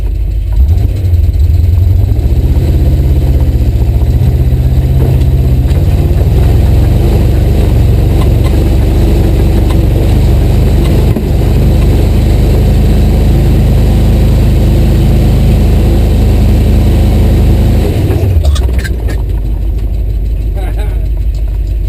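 A yellow Jeep's engine drones steadily and loudly in second gear as it climbs a snowy hill, the low rumble rising slightly in pitch before cutting off near the end; a voice speaks over it.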